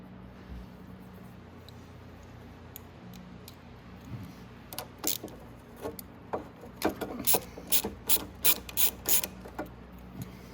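A nut goes back onto a Venom Motorsports eVader electric scooter. Near-quiet handling gives way to a run of sharp ratchet clicks in quick bursts, close up and increasingly regular toward the end, with no talking.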